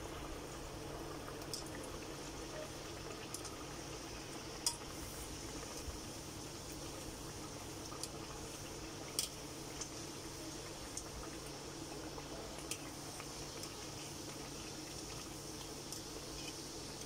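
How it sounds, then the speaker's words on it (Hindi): Puri made from kuttu and singhara flour frying in hot oil, a soft, continuous bubbling sizzle with faint crackles and pops, close by and fairly quiet. "ये गई मेरी पूड़ी सीधा तेल में"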